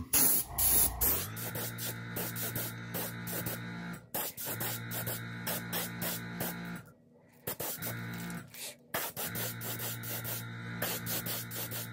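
An airbrush sprays paint onto a crankbait lure in a steady, loud hiss, broken by several short pauses as the trigger is released and pressed again.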